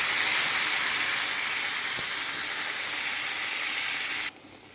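Raw plantain pieces frying in a pan with ground spice paste, a steady broadband sizzle and hiss that holds evenly for several seconds, then cuts off abruptly to near quiet.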